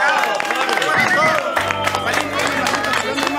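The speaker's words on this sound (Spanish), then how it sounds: "¡Aplauso para ti!" Applause and cheering from a studio audience at a televised impersonation contest show, a lively burst of clapping mixed with crowd voices and music underneath, fairly loud throughout.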